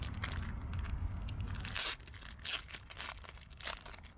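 Plastic pouch packaging for a hard drive case crinkling and crunching as it is handled up close, steady rustle at first, then sharper intermittent crackles.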